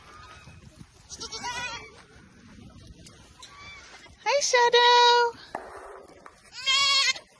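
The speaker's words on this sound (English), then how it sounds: "I see lots and lots of goats." Goats on a farm bleating loudly in several separate calls, some long and wavering, with a person talking briefly between them.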